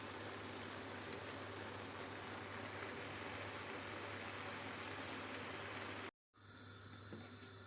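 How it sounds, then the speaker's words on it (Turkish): Eggplant slices sizzle steadily in hot oil for a moussaka, a dense continuous crackle with no talk, briefly cut off near the end before the frying resumes. "Evet arkadaşlar şimdi patlıcanlarımızı"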